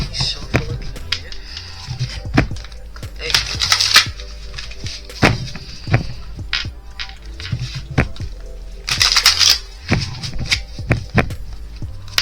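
Tarot cards being shuffled by hand in a quiet room, giving irregular riffling bursts, soft slaps and sharp taps close up, with faint handling noise between.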